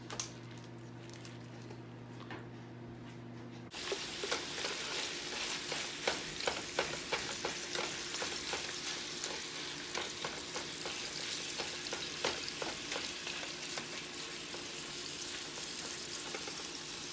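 Ground beef sizzling and crackling steadily as it browns in a pan on the stove, with a dense continuous fry and scattered pops, close and moderately loud, following a short quieter hum at the start.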